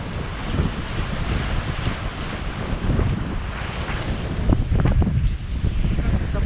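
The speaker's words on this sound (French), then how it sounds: "Là on a des belles petites rafales à 30 nœuds quand même" Thirty-knot wind gusts roar across a sailboat's microphone at sea in the Strait of Bonifacio, a dense, loud buffeting rush that surges and eases with splashing water beneath.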